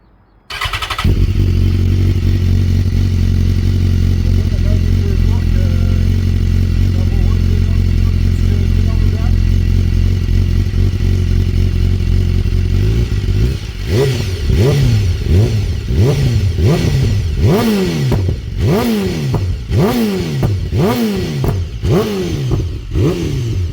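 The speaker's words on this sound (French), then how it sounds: "je vais vous faire un petit démarrage pour vous montrer un petit peu le bruit de" Track-day motorcycle engine starting and then revving: a steady loud idle for several seconds followed by a run of repeated sharp throttle blips rising and falling, close to the microphone, with no talk.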